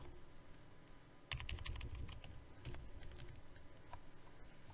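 Rapid clatter of keys on a computer keyboard, typed in short bursts with brief pauses, close and fairly quiet against a soft background hum.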